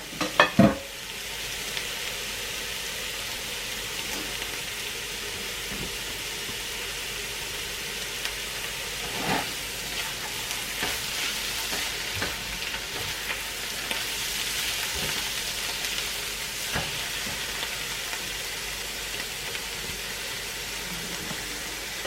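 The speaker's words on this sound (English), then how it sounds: "Now I will add my shrimp, just to incorporate all ingredients together now" Shrimp is stirred into a stuffed mushroom filling in a hot pan, with a steady sizzle and frying hiss and occasional scrapes and taps of a utensil after a couple of sharp knocks at the start.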